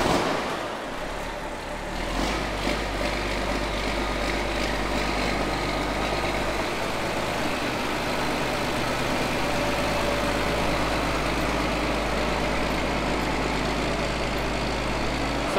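A John Deere 4640 tractor, its diesel engine started cold, turning over and then settling into a steady, deep idle that rumbles on for over ten seconds.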